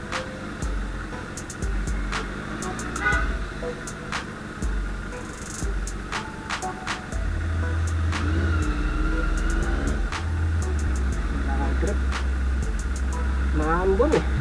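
A Suzuki Impulse 400 motorcycle engine on a road test, rumbling steadily up close with a louder, heavier drone in the second half, while a voice talks over it.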